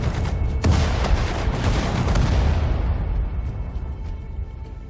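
Artillery barrage in the WWII strategy game Sudden Strike 4 at Tobruk: dense, continuous rumbling booms and overlapping blasts roll together loudly, with a sharp crack near the start before the roar slowly thins.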